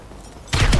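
Gunfire rings out against zombies in a GTA 5 survival mod, a sudden loud burst of rapid shots that breaks a quiet stretch partway through and keeps going.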